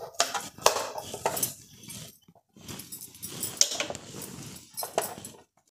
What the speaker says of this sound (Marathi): अशा पद्धतीने आपण सर्व गाजर कट करून घेऊया